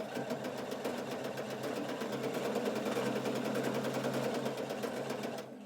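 A Husqvarna Viking sewing machine fitted with a ruffler foot runs steadily through a bias-cut fabric strip, a fast even mechanical chatter that holds at one level for several seconds before stopping at the end.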